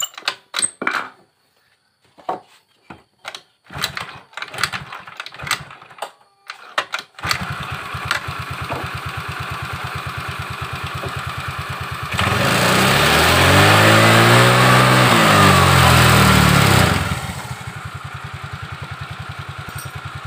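A Honda Vario CVT scooter with a CVT that keeps driving at idle: after some clicks and taps, the engine starts and idles with a steady putter, revs loudly for several seconds, then settles back to idle, close up.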